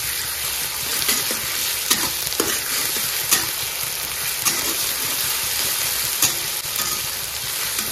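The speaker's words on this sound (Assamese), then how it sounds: "এতিয়া আদা নহৰু যে লৈ লৈছিলোঁ এক চামুচ আধা এইকণো অকণমান ভাজি ল'ম" Onions, ginger and garlic fry in a pan for an egg and soybean dish, making a continuous close sizzle with scattered louder crackles and occasional stirring scrapes, no voices.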